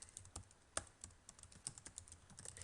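Typing on a computer keyboard, a quiet, close series of quick, uneven key clicks with short pauses, alone with no talking.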